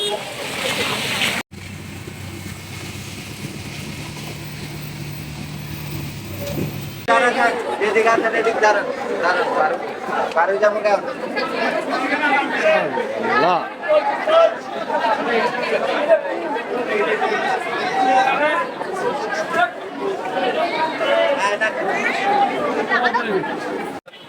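Dense crowd chatter at Sealdah railway station in Kolkata, many overlapping voices in a steady din, starting with a quieter humming stretch before the crowd noise swells.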